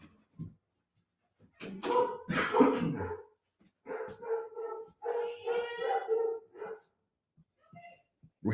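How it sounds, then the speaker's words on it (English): Several household dogs bark excitedly indoors after someone enters the house, loud, overlapping bursts in uneven clusters, with some howl-like and whimpering tones between quiet gaps. "So all the dogs can bark."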